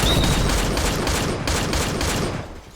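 A Snow Ball Blaster toy gun fires in a fast rattling burst of rapid shots, loud and close, the volley holding steady before tapering off at the end.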